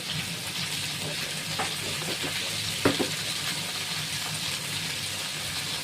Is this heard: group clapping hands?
no